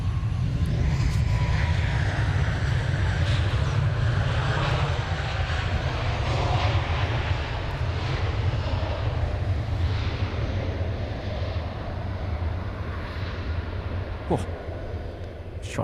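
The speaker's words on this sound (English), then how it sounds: "that's one lovely landing" Air North airliner landing at Cairns Airport, with a loud, constant engine roar and deep rumble throughout and wind buffeting, while people talk over it.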